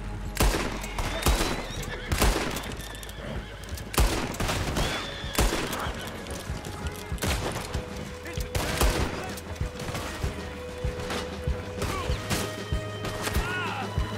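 A horse neighs and whinnies in Red Dead Online amid galloping hooves and repeated bursts of gunfire, loud and busy throughout, with a voice shouting at moments.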